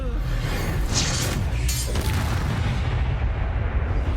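A Confringo fire spell explodes in Hogwarts Legacy, a dense, roaring blast with crackling bursts that fills the whole clip at steady loudness, with no talk over it.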